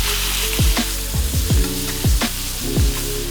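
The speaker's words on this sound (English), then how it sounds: "add in your beef and really spread it around, but don't touch it, let it sear" Beef sears in oil in a hot wok with a constant loud sizzle, punctuated by several dull knocks and clanks; no one speaks.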